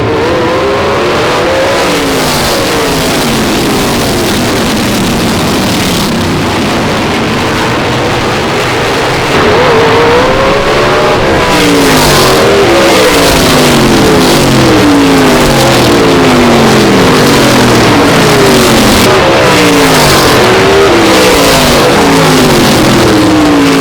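Race cars accelerate away from a race start in a loud, continuous roar of engines, with several overlapping rising and falling revs from a close pack.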